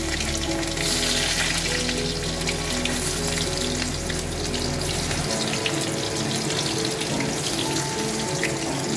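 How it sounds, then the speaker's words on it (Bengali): Round-sliced onion rings frying in oil for a mustard chicken recipe give off a steady, loud, crackling sizzle that never pauses, with a low hum underneath for the first half. "পেঁয়াজগুলো গোল গোল করে কেটে নিয়েছিলাম, একটু ভেজে নেবো তেলে"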